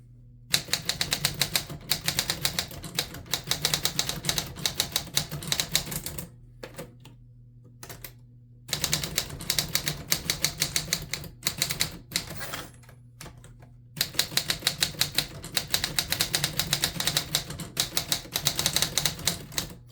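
Rapid bursts of keystrokes from a 1940s Smith Corona Sterling manual typewriter, close and crisp, with brief pauses between runs and a bell-like carriage stop midway, no talking.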